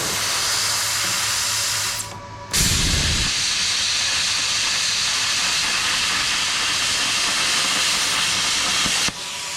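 A Harbor Freight Plasma 45 plasma cutter slices through metal with a loud, steady hiss that drops out briefly, then resumes and runs until an abrupt stop near the end.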